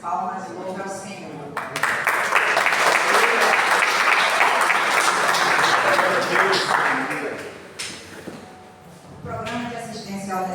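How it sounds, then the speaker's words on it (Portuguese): A church congregation at an evening worship service bursts into loud, sustained applause that swells for several seconds and then fades, with voices speaking over it at the start and end. "E as palmas louvam ao Senhor."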